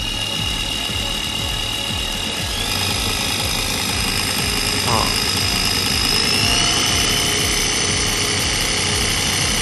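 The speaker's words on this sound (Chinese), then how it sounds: "我们可以听一下它的噪音" Tsai Fa EMY-480 lithium-battery electric agricultural sprayer running, a steady close-up motor whine with a constant high-pitched tone and hiss of spray, holding an even level throughout with no audible talk.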